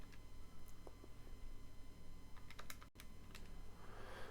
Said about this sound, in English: So chuck that in the calculator, bear with me.